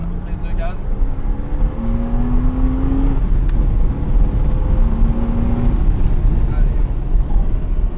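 Porsche Cayman S on a track during a driving course, its engine droning steadily with rising whine as it accelerates, loud and close throughout, with a voice talking over it.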